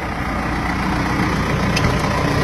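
A tractor engine idles steadily and loudly throughout, a continuous low rumble with no talk over it.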